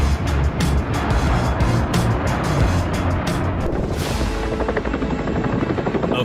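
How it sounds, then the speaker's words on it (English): A firefighting helicopter's rotor thumps steadily overhead, loud and close, with a continuous engine roar throughout. "A firefighting helicopter is human innovation at its peak."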